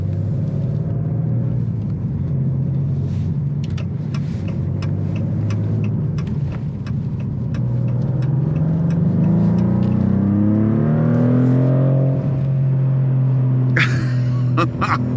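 2024 Maserati GranTurismo Trofeo accelerating in sport mode, its engine rumbling and rising in pitch through the gears from inside the cabin, loud and continuous with faint clicks over it.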